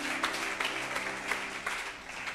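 Audience applause at a Friday miracles and prophecies church service, a steady patter of many hands clapping, moderately loud and continuous with a faint hum underneath.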